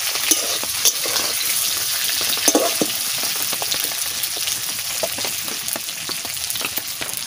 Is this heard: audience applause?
no